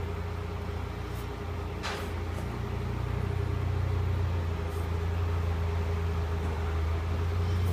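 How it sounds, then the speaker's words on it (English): A solar-powered water pump motor run by an XR inverter-controller, starting up into a steady low mechanical hum with a constant drone and faint whine that continues without pause. "hit run again, and we'll start the motor"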